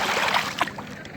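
A boat glides over clear, shallow water among hills at Bijoypur near the Indian border in Bangladesh, giving a steady, close wash of water and motion noise that runs unbroken for about a second.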